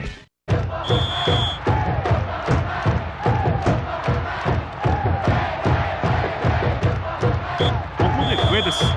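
A dense, roaring stadium crowd in the 1997 soccer video game Winning Eleven 3 cheers continuously from start to finish, with sustained whistles and chanting swelling over the din.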